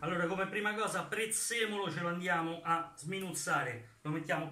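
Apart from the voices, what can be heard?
No everyday noise stands out behind the speech.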